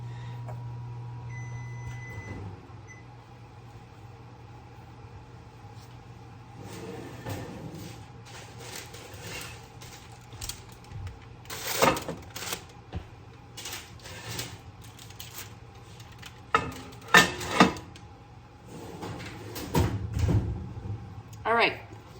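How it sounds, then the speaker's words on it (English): A home oven is opened to pull out a tray of homemade granola, with clattering knocks, a door thud and scattered handling bumps over the last ten seconds, loudest near the end, under a low hum and room noise. "I'm gonna grab this out of the oven so we can check and make sure that it's ready"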